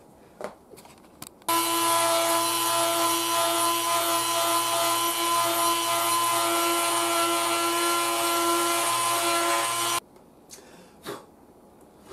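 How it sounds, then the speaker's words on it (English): Rotary tool spinning a small burr to grind out a hole while a pink gift radio is being built, a steady high-pitched whine running about eight and a half seconds, loud and close, with brief handling clicks before and after. "let me get a smaller burr and we'll grind that hole out."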